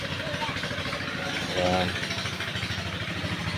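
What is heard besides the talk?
running engine of irrigation water pump in rice field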